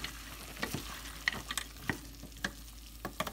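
Peas for a vegetable samosa filling are stirred in a frying pan, a soft continuous sizzle with repeated light clicks and scrapes of the spoon at an irregular pace, close by and with no one speaking.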